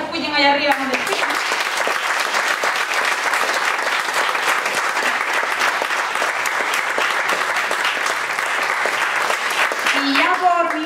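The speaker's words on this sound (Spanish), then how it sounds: "Y entonces yo creo que también merecen un aplauso" An audience at a senior citizens' day event in Mogán gives a long round of steady, dense applause, and a voice can be heard speaking briefly at the start and again at the end.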